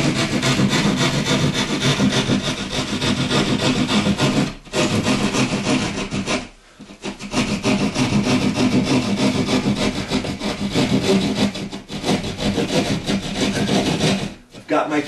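A hand saw cuts a hole in a ceiling or wall board for an eyeball can light fixture, its loud, steady rasping strokes running almost continuously with two brief pauses, no talk.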